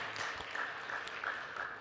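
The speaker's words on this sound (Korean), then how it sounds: "주님께 감사 박수를 드렸으면 합니다" Church congregation at a Sunday sermon giving a soft round of thankful applause, faint and distant, with a steady wash of claps throughout.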